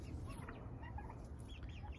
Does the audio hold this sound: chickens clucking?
yes